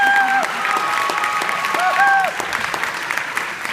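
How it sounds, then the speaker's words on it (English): A high school senior band recognition audience breaks into sustained applause for a senior band member, steady clapping filling the room while tonal voices or music sound faintly underneath before the clapping thins out. "give her a round of applause"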